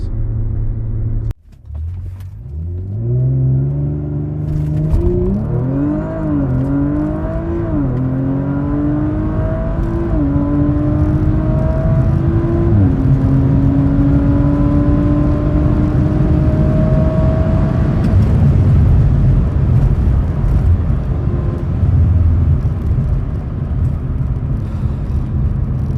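An Audi RS5 fitted with a 034 Motorsport Stage 1 intake accelerates hard, its engine note climbing through several gear changes with a loud, close rumble and rising induction whir, heard alone without voices.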